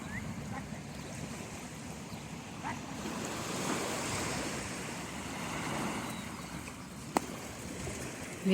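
Ocean surf rolls steadily at a beach in the morning, a broad, continuous wash of waves with some wind rumble on the microphone and a single sharp tick near the end.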